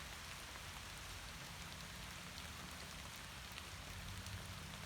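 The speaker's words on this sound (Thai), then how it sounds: "เพราะว่าฝนตกกันค่ะนี่ค่ะ" Steady rain falls at night on a rubber plantation in Surat Thani, Thailand, in a soft, even hiss, with scattered drops pattering on nearby surfaces; no voices.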